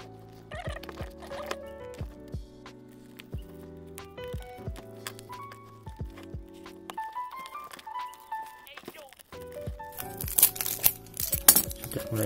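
Denso spark plug packaging for a Toyota Kijang LGX 1.8 EFI being opened, with crinkling cardboard and plastic, light taps and clinks, and a burst of louder tearing near the end, under quiet talk.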